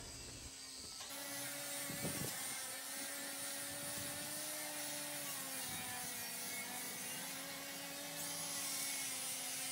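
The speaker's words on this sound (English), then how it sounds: "clean the outside with these rust removing grinder wheels" Grinder fitted with rust-removing wheels scouring crusty rust off an old steel pipe for a backyard offset smoker build, a steady loud whine with a rising and falling pitch and a gritty scraping rasp throughout, briefly quieter at the start.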